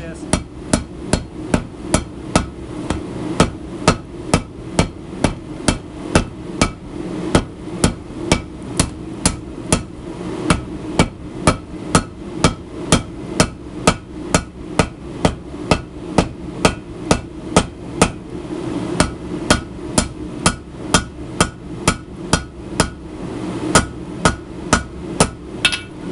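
A hammer pounds a cable Damascus billet during forge welding in a long, steady series of sharp metallic blows. The strikes are close and loud and fall at a regular pace, with brief pauses between short runs.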